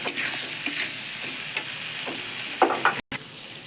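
A ground paste of ginger, garlic, cumin, coriander and chilli fries in a pan, a steady close sizzle punctuated by several sharp scrapes of stirring, with a brief dropout near the end and no talk.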